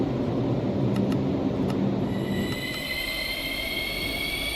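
A subway train driven on an MTA line in the Minecraft video game rumbles steadily, with faint high wheel squeals and thin tonal whines rising over the continuous rolling noise.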